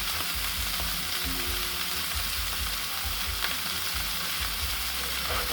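Steak sizzles away in its own fat in a hot pan, a continuous close frying hiss with a low hum underneath and no voices.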